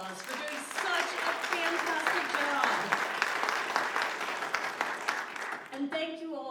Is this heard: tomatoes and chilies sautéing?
no